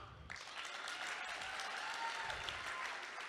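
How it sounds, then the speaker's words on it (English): A live audience at a cultural performance claps together, a dense, steady wash of applause that starts abruptly and keeps going throughout. "Do a demonstration for me, can you clap?"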